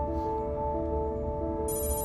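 Short electronic text-message alert from a phone in the Heavy Rain video game, a bright tone burst near the end over a steady humming game background.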